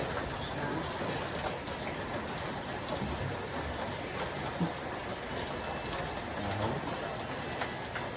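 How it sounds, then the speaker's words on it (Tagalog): Steady rain falling, a dense hiss of drops on surfaces that stays even throughout, with no voices. "Ito yung ulan ng tagal."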